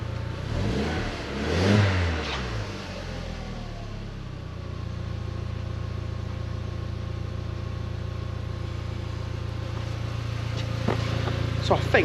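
An Audi TT Mk1 engine idles with a steady low rumble, briefly revving near the start before settling back into an even hum.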